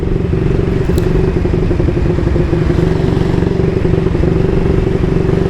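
A 1938 AJS Model 22 250cc single-cylinder motorcycle plonks along at a steady cruise, its loud, close engine thumping evenly under rushing wind noise with no change in pace.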